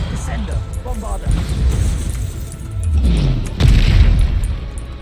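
A Bombarda blasting spell detonates in Hogwarts Legacy, a deep booming blast with rumbling low end amid other spell effects, loud and close, with a voice speaking over the combat.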